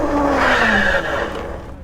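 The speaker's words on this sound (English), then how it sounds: "So let's give it a little 20 to 0 brake test, starting from 0 here, up to 20 pretty quickly." Hydraulic brakes on a Freesky Warrior Pro M-530 dual-motor e-bike squealing while stopping from 20, a rising then falling tonal screech over wind and road noise that fades as the bike halts.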